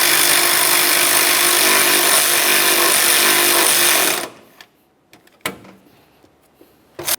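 Power tool snugging up mounting bolts during a radiator cooling fan replacement on a 2004-2006 Scion xB, a loud close buzzing whir for about four seconds that then stops, followed by a few faint clicks and knocks.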